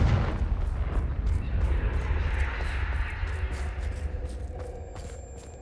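Confringo fire spell blasts in Hogwarts Legacy, a loud, booming burst followed by a rolling, roaring rumble with crackling flare-ups that gradually fades, close and with no talk over it.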